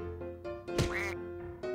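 A cartoonish duck quacks once, loud and close, in a duck video game, set against repeating electronic game music.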